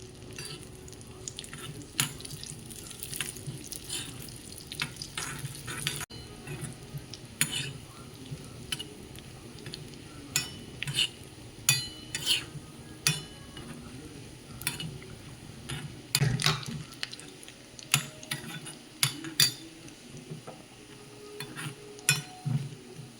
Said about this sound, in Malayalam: തേങ്ങാക്കൊന്താ വറുത്തിടുന്നത്